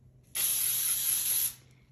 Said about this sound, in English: And I spray one side